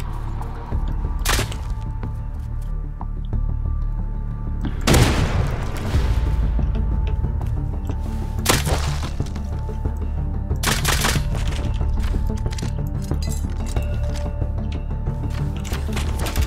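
Gunfire in the survival game Rust: several sharp, loud shots and short bursts crack out at uneven intervals over a steady background rumble, with a close, heavy boom near the middle.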